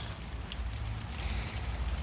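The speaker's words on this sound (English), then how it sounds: "Oh no, it's raining." Rain falling outdoors near a shed: a steady, soft patter and hiss that runs through the whole short stretch, fairly faint and with no voices.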